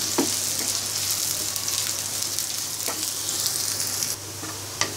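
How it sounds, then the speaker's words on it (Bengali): Chopped onions fry in oil for a lentil dal, giving a steady, close hiss of sizzling with a few faint clinks of stirring and the sizzle easing toward the end. "পরিমাণ পেঁয়াজ কুচি ভেজে নিব।"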